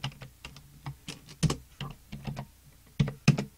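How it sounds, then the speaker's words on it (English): An IP address being typed on a computer keyboard: a close, uneven run of distinct key clicks with short pauses, a few strikes louder than the rest, and no talk. "So, we're going to type in our IP address."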